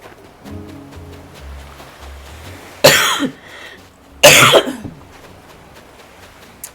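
Two sharp, loud coughs ring out about a second and a half apart, close to the microphone, over soft low background sound.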